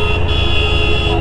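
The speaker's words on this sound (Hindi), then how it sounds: "कितना हॉर्न बजाते हो यार तुम लोग, शर्म नहीं है कोई।" A car horn blares in one sustained, loud honk close by, with traffic rumble underneath.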